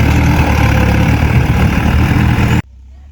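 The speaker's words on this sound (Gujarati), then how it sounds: "આપણા ખેતરમાં પ્લાવ વાગ્યા ટ્રેક્ટરને." A tractor engine runs with a plough in a farm field, a loud, steady low rumble close by that cuts off abruptly near the end, leaving quiet.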